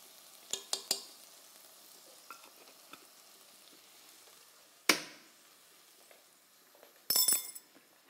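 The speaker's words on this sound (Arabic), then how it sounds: "انا رح اقلي الخضرة، اكمل تقلايتها شوي" Vegetables sizzle softly in a frying pan for chicken rice and vegetable soup, a faint steady crackle broken by a few sharp clinks of a utensil against the pan and bursts of stirring.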